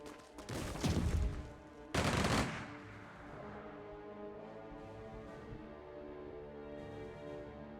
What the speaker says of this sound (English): We will do battle. Open fire.